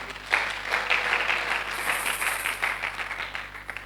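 A church congregation applauds together for about four seconds, a steady, moderately distant patter of many hands with no speech over it.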